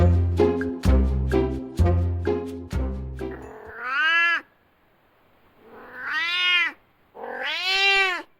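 An angry cat gives loud, drawn-out meows and caterwauls close by, three long wavering yowls separated by brief silences, after a run of sharp rhythmic thumps.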